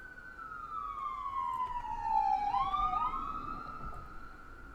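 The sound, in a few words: ambulance siren passing on a busy road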